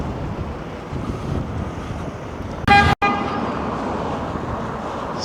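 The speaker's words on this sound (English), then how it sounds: "Some truck beeping its way through" A truck horn gives one short blast over steady street traffic and wind rumble in Blackpool, cutting off abruptly.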